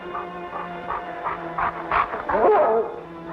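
A dog in a 1950s Yukon adventure drama in Skagway barks and whimpers at two men, a run of short yips and bow-wows rising to a louder, excited stretch near the end, with no talk over it.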